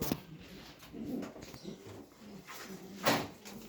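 Pigeons coo softly at close range in a loft, with low murmuring calls and a sharper burst near the end.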